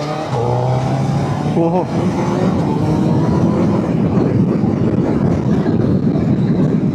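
A Suzuki Hayabusa superbike roars steadily at speed, a rising engine note briefly stepping up in pitch as gears shift, with heavy wind rush throughout and a rider exclaiming early on.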